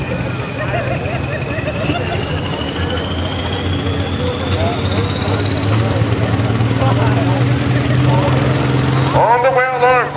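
A John Deere 4255 tractor at an evening tractor pull roars with a loud, sustained engine drone and a turbo-like whine climbing steadily in pitch, while an announcer talks over it through a PA.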